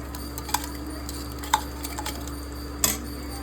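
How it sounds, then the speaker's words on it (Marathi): A utensil stirs modori chutney with curry leaves in hot oil, giving a few light metallic clinks and taps against the pan, spaced irregularly over a steady low background hum. "बोलले ना, चटणी टाकायची, तिला तेलात हलवायची"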